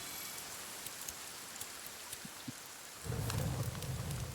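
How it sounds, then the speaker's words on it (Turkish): Rain falls in The Forest video game, a steady hiss of heavy downpour that grows louder and denser partway through, with no voices over it. "Çok fena şey yağmur bastı ama."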